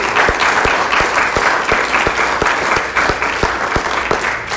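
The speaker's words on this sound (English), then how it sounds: "So, a round of applause for them for actually making that possible." An audience at a Scientology-related Q&A session applauds loudly and steadily, a dense wash of claps that carries on throughout without a break.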